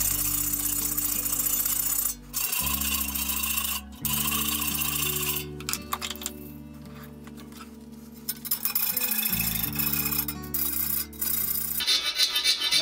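Hand file sharpening and shaping the teeth of a saw, a close gritty rasping stroke repeated in a steady back-and-forth rhythm, broken by brief pauses between passes.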